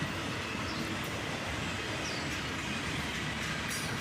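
A freight train loaded with automobile frames rolls steadily past, its continuous wheel rumble and rhythmic clickety-clack close and loud, with occasional faint squeals from the wheels.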